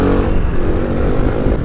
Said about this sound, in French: et pourtant ben un petit coup de gaz et ça lève.